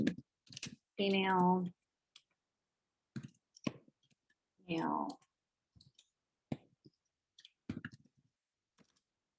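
Slow typing on a computer keyboard during a programming workshop, with scattered single key clicks at an unhurried pace between short stretches of spoken words, close and fairly quiet.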